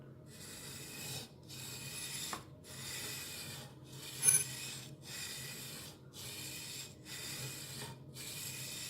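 A knife blade is drawn back and forth on a Konigsberg Crutch guided sharpening system, producing about eight even, rhythmic rasping strokes with short pauses between them, close and moderately quiet, with a single sharper click midway.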